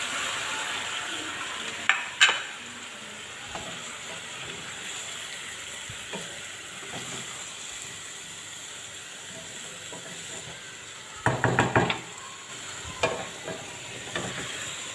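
Tomatoes going into a pan of softened potatoes and frying with a soft, steady sizzle. A few clattering bursts of stirring and handling rise above it, and no one speaks.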